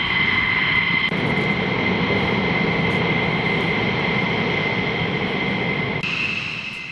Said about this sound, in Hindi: इजरायली जेट्स जिन्होंने उड़ान भरी इजरायली एयरबेस से